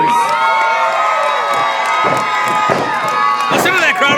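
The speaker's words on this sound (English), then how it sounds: "Listen to that crowd ovation, not bad." A wrestling crowd at an indie show cheers and whoops for the Lost Boys tag team, a loud, continuous roar with high shouts and children's voices rising over it throughout.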